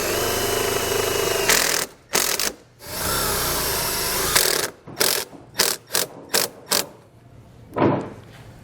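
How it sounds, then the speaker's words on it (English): Power drill driving self-tapping screws into a trailer, long loud whirring runs followed by a rapid series of short bursts as the screws seat, close and harsh, no talk. "I'm going to secure it using the provided self-tapping screws"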